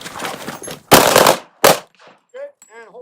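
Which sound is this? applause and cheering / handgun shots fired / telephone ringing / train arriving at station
handgun shots fired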